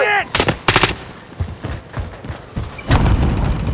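Rapid bursts of automatic gunfire crack out in a battle royale video game, loud and close, with sharp shots in quick clusters and a heavier volley near the end.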